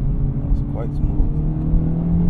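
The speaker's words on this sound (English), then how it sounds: "this first drive of my Acura Integra, just unleashing the power" An Acura Integra Type S pulls away with a steady, loud low engine drone from inside the car as it picks up speed, and brief traces of a voice sit over it.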